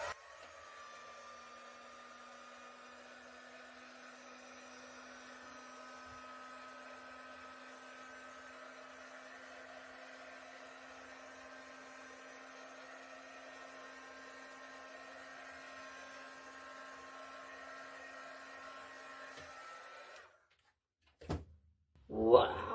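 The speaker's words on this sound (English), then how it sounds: "I just want to hit this quick with a heat gun." A heat gun blows steadily on an acrylic paint pour, a low, even whirring hiss with a faint tonal hum lasting about twenty seconds before it cuts off, followed by a couple of soft knocks.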